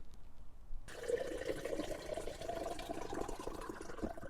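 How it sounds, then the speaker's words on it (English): Water pours steadily into a mason jar for a borax solution, a continuous splashing, rising fill sound starting abruptly after a short quiet lead-in and running close and moderately loud until the end. "I'm going to fill up my mason jar with good quality water."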